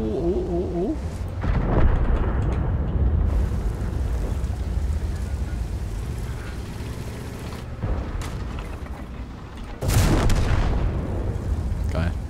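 Heavy tank cannon blasts in World of Tanks boom out loud with rumbling decay, one around two seconds in and another near ten seconds, over a continuous low engine rumble with a brief voice at the start.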